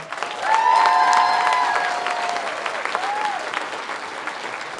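Audience applause and cheering fill a theater after a closing-night performance of a youth musical production of Matilda The Musical Jr., loud and dense at first, then gradually thinning out.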